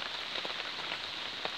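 Steady rain pattering on a Weldom tarp stretched over an outdoor bed in November, a dense continuous hiss with scattered drop taps, close by and with no voices.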